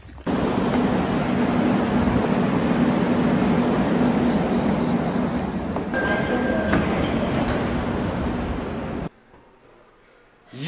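A subway train ride: a loud, steady rumble and rushing roar of the moving car with faint rail clatter, ending abruptly as the recording drops to near quiet.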